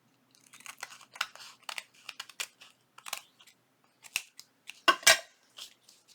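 Scissors trim paper for a junk journal, a series of short, crisp snips in an irregular rhythm, close and fairly quiet in an otherwise silent room.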